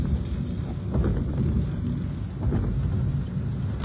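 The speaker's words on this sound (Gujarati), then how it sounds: "તમામ જગ્યા ઉપર હાલ વરસાદ મન મૂકીને વરસી રહ્યો છે" Heavy rain pours down in a dense, steady wash of noise, with low rumbling and gusty bursts underneath, under dark clouds in Vadodara city.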